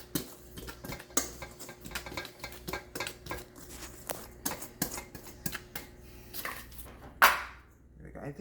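Cornmeal muffin batter with a cup of cornmeal being mixed in a bowl, a spoon clattering and scraping against the sides in a steady close rhythm, with a louder clack near the end.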